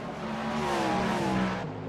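GTP prototype race cars in a video game endurance race at Le Mans on the Mulsanne Straight, a steady loud engine drone with layered harmonic whine from several cars bunched together, sustained throughout and fading slightly at the end.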